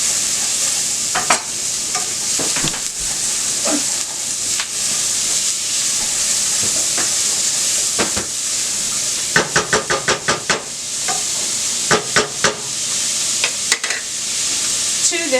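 Potatoes frying and sizzling in a hot pan, a steady broadband hiss running throughout with crackling pops and a flurry of sharper spatter bursts partway through, close and loud.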